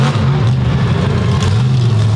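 Drag racing car powered by a big Oldsmobile engine, a loud steady rumbling roar held close for the whole stretch with slight wavering pitch and no talk over it.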